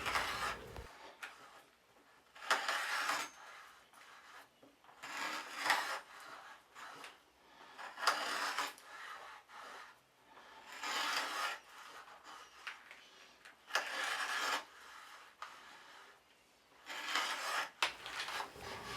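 A hand threadbox cuts threads into a laminated poplar wood dowel, producing about seven rhythmic rasping, grinding strokes, each a second or so long, separated by short quiet pauses, close up and moderately loud.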